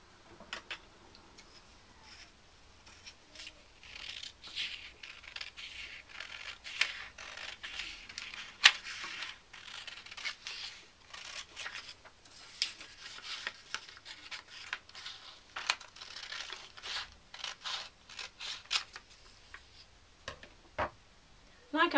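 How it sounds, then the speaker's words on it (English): Scissors cut along the fold of a sheet of paper being made into a concertina book, producing a long run of close, quiet snips and papery rubbing in an uneven rhythm. "The next thing we need to do is to cut along that fold."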